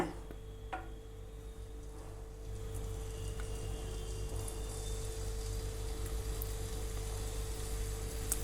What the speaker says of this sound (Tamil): இப்போ இந்த நெய்யில் வந்து ஃப்ரை பண்ணி எடுத்துடலாம்